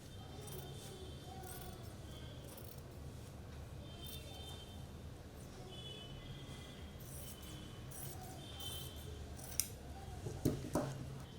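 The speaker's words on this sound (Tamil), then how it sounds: "இப்போ பேக் சைடு வந்து ஓப்பன்றனால இந்த ஃபோல்டையும் நம்ம கட் பண்ணி விட்டுறணும்" Scissors snip through the folded back edge of a baby frock's fabric, a steady run of crisp blade clicks over a low room hum, ending with a few sharper, louder cuts.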